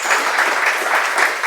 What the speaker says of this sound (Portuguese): eu quero pedir para vocês darem uma salva de palmas bem forte para